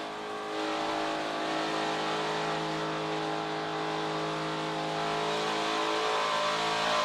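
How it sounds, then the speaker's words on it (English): A NASCAR Xfinity Series race car engine holds a steady, loud, sustained drone as the driver works the throttle through a corner during a race. Its tone shifts only slightly, with no voices over it. "Listen to the throttle that he's applying through the center, 2/3, all the way off the whole corner"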